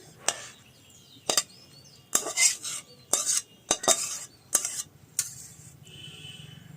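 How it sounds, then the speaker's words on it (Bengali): Cooked red amaranth greens with prawns being poured into a bowl, heard as sharp metallic scrapes and clinks of a spoon against the pot and bowl in irregular bursts, close and fairly loud, with no talking. "আমি ঢেলে দিচ্ছি বাটিতে"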